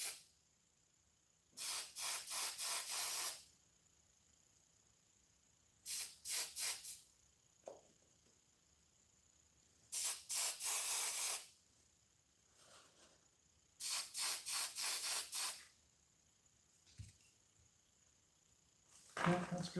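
Sprayer applying a coat of finish in bursts, several loud hissing sprays of a second or two each separated by quiet pauses, fairly close.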